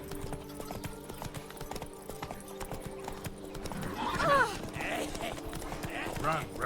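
A horse in The Witcher 3 video game gallops with rapid rhythmic hoof clip-clops close by, then whinnies a few times toward the end over a busy game soundscape.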